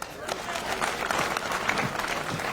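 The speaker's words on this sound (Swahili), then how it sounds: "Mjipigieni makofi." University students at Kenyatta University applaud as a crowd, a sustained wash of clapping at moderate distance with voices and cheers mixed in underneath.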